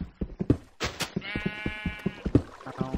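Sheep in the Minecraft video game bleat in short nasal calls amid rapid blocky footstep clops, with one longer bleat standing out clearly near the middle.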